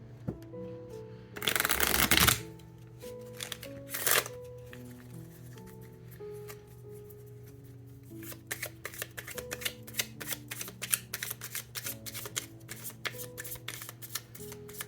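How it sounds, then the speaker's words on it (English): Tarot card decks are riffled in a loud whooshing burst, then shuffled by hand in a long run of quick, crisp flicks and taps over faint background music. "I'm going to shuffle these decks and get started"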